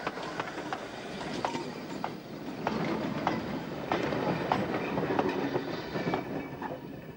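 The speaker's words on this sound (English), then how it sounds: "The 1040 goods from Letterkenny to Londonderry are out at Newton Cunningham, headed by 460 tank number 2." A goods train headed by a 460 class tank locomotive runs on an Irish narrow-gauge railway near Newton Cunningham, its wheels clicking rhythmically over rail joints as wagons roll past at moderate distance, with no talk.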